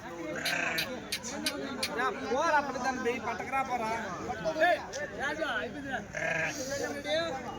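Many sheep bleat repeatedly and overlapping amid a busy crowd of chattering people, a loud, dense livestock-market din at the weekly sheep and goat market in Kadiri.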